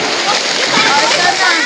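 Someone jumps into water with a loud, close splash, and the churning and splatter carry on for a moment. Voices and excited shouting from a group can be heard around it.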